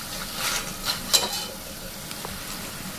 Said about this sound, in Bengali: দেখুন কি সুন্দর হচ্ছে এখন ভাজাগুলো